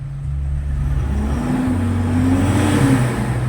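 A car engine runs close by, idling with a low steady note and then revving up, with the pitch climbing and holding before easing back down.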